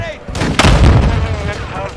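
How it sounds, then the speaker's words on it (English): Stun grenade going off in Call of Duty Modern Warfare 2 multiplayer, a sharp loud burst followed by a ringing, dense wash of noise amid other battle sounds, with players talking over it. "Throwing a stun grenade."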